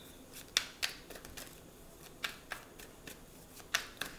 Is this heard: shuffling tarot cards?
yes